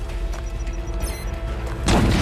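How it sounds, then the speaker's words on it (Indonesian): An explosive blast bursts out near the end of a film scene, a sudden loud broadband boom rising from a steady low rumbling background. "Namun ketika akan kabur lebih jauh, chip Slipknot pun meledak."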